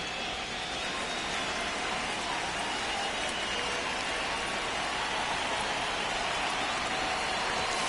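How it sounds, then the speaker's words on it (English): Steady rain falls on an outdoor baseball field during a game, a continuous broadband hiss of drops with no other clear sounds. "the field's not going to be able to hold up if the rain gets any worse than this"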